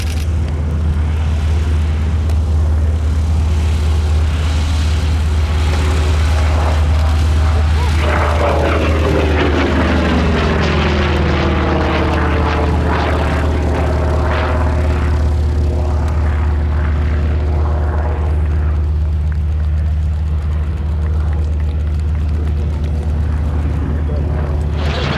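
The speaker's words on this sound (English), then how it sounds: "Coming from the right, the FG-1D Corsair" A WWII-era FG-1D Corsair propeller fighter passes at an air show in Reading, Pennsylvania, its engine drone rising and sweeping past in a long Doppler arc over constant low rumble, while a voice talks over it.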